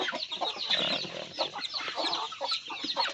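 Newly hatched native chicks about five days old, close by, with dense, overlapping high chirps and soft clucks that continue throughout.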